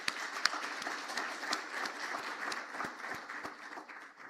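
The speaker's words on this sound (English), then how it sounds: "A round of applause for the Honourable Minister." An audience at a council meeting claps for the Honourable Minister, a fairly quiet, distant round of applause with a few sharp individual claps standing out over the steady patter.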